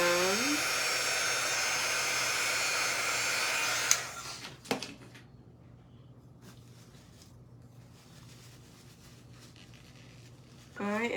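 A hair dryer blows steadily and close for about four seconds, cuts off with a click, leaves a quiet pause with faint handling noise, then starts up again at the end.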